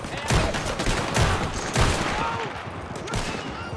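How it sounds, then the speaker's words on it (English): Scattered gunshots ring out in a video game, several sharp cracks and short bursts at moderate distance over a noisy background, with little talk. "Okay, I hear shots now. Yeah, I hear the shots now too."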